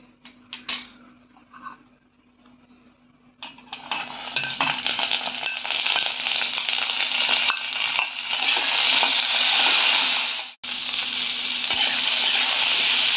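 A few light metal clinks in a quiet kitchen, then black cumin and turmeric hit hot oil and burst into a loud, steady sizzle that runs on with scattered scraping and stirring taps.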